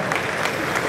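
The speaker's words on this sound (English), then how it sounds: "We would appreciate your applause" A crowd claps steadily at a KTM motorcycle press launch, a brief, dense wash of applause from a large audience heard close.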